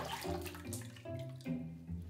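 Liquid pours from a Japanese pitcher, a faint glugging flow with uneven bubbling pulses, heard close and alone without talk.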